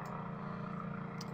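A louder, more realistic helicopter sound effect from a cinematic toolbox: a dense, continuous rotor and engine roar with a rapid low chop, steady and close, no voices.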